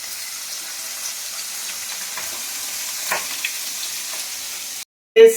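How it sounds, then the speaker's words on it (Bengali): Hilsa fish head frying in hot oil, a close, steady hissing sizzle with faint crackles throughout, cutting off abruptly near the end before a brief louder clatter, no talking. "মাথাটা ভাজছি।"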